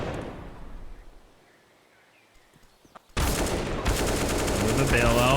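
Pistol fire from a Counter-Strike esports match on Inferno: a quiet, muffled stretch gives way to sudden, dense, rapid shots that keep going loud to the end.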